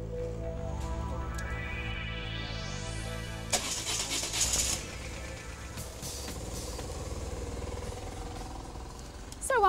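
A BMW 1150 motorcycle engine cranks and fires, its pitch climbing steadily before settling into a running idle with a revving rumble, mixed with background speech.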